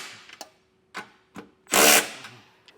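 Hand tools snugging down the bolts of a Curt trailer hitch receiver on a 2024 Chevrolet Traverse: a few short clicks and ratchet bursts separated by pauses, then one longer, louder burst of turning near the middle, with no voices.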